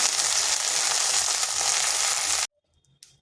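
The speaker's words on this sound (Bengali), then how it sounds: "ঢেঁড়সটা হালকা এরকম ভেজে নিয়েছি" Okra fries in hot oil over high heat, a loud dense sizzle that runs steadily for about two and a half seconds, then cuts off abruptly to near silence with a faint clink.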